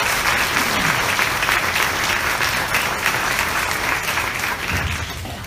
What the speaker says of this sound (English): we should give them a round of applause for doing that